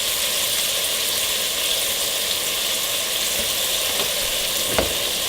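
Beef stroganoff sauce with Worcestershire heats in a pan, giving a dense, even bubbling sizzle that runs steadily throughout with one faint knock near the end.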